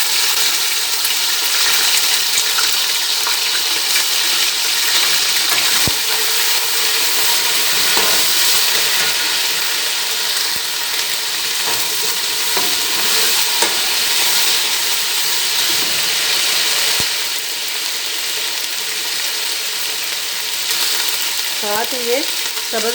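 Mutton sizzles steadily in hot oil as ginger garlic paste goes in for pulao, with occasional stirring scrapes and splashes under a continuous loud frying hiss.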